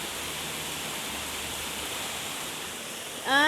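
Steady wind and rain outside form a dense, even hiss with no breaks, a constant wash of noise, and a short rising whine cuts in at the very end.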